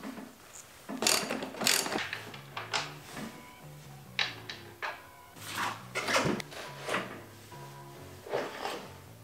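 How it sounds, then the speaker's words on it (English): A wrench clicks and ratchets while cracking loose the rear axle nut on a Honda CRF300L being built into a supermoto, a series of quiet, irregular ratcheting clicks and clunks close by, with no talking. "So we just want to go ahead and crack this loose."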